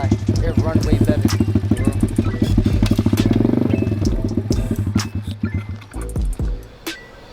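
A 125cc SYX MOTO dirt bike with a freshly installed clutch revs and rides close by, its engine droning steadily and loudly, then breaking into choppy bursts as the throttle is worked, while the rider talks over it.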